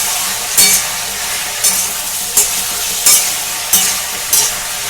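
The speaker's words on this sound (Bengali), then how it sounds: "আবার একটু কষে নেব, মিশিয়ে নেব ভালো করে।" Potato curry with chilli powder is stir-fried in a pan, with a loud, close sizzle and a spatula scraping through it in regular strokes roughly every second.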